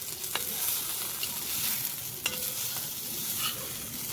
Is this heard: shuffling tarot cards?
no